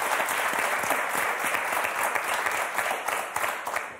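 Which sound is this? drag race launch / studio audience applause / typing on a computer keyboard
studio audience applause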